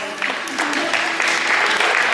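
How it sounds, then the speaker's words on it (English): A high school post-prom show audience bursts into applause, a dense burst of clapping that swells and holds for a couple of seconds. "Give a round of applause"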